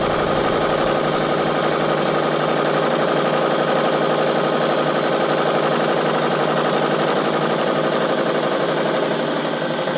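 Cold rolled steel being machined in a vise, a loud, steady mechanical drone with dense rhythmic grinding and whirring that holds without break.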